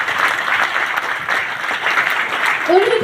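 A crowd at a DXN business meeting in Prayagraj breaks into vigorous applause, a thick continuous wash of clapping that stays loud and even, with voices mixed in.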